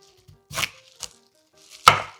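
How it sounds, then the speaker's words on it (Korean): A knife chopping Korean radish (mu) into thick slices for drying makes three distinct thuds on a cutting board, separated by short silences, with the last cut the loudest. "자, 이제 무를 썰어 보도록 하겠습니다"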